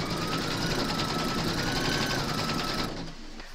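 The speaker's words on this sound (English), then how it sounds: "Pop your hoop into your machine and stitch round number 3 to secure it." An embroidery machine stitches an in-the-hoop plush penguin, a fast continuous mechanical whir with a rapid needle rhythm, close and steady, dropping quieter as it slows near the end.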